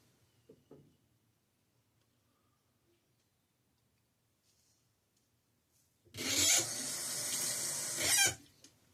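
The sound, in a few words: water running from tap to wet shave soap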